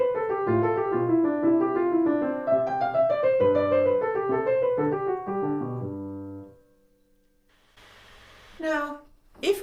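Solo piano plays a lively gigue passage of flowing notes for about six seconds, then stops, followed by faint rustling and a short voice-like sound.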